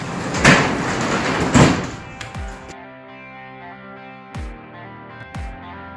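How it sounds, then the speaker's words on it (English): A 12x10 garage door rolls and rattles loudly, with sharp metallic bangs, then the clatter stops and ringing clunks and thuds follow as it settles. "Functioning garage door."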